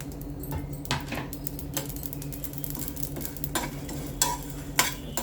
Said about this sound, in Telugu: కొబ్బరి ముక్కలు ఇప్పుడు ఇవన్నీ వేయించుకుంటున్నా